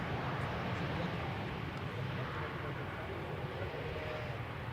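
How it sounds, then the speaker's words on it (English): A Transavia airliner arriving at Amsterdam Schiphol Airport, a steady broad roar of jet engines held at a constant level throughout, moderately distant. "Next up, Transavia in the Peter Pan Vacation Club special livery, arriving from Kefalonia in Greece."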